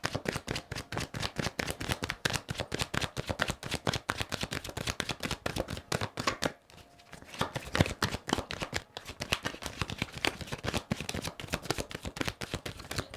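Rapid, continuous tarot card shuffling with dense crisp riffles and flicks, close and steady, pausing briefly midway before resuming.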